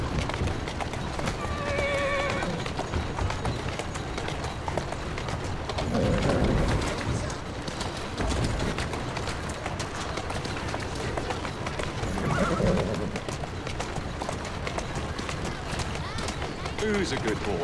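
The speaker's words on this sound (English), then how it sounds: "Who's a good horse? You are." Horse hooves clip-clopping at a steady run through Victorian London in Assassin's Creed Syndicate, with a couple of whinnies and neighs rising over the galloping and constant background game noise, while someone talks.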